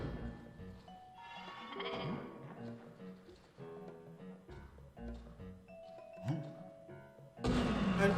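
Sheep in the Vita video game Escape Plan bleat several times among soft game taps and thunks, set over a quiet musical background, and a loud burst comes at the end.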